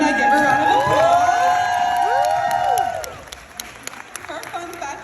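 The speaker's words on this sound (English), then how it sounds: "Give her a round of applause." A church event crowd applauds and cheers for Pastor Sabrina as she is introduced, with clapping and whoops building loud and dense before thinning into scattered claps and voices.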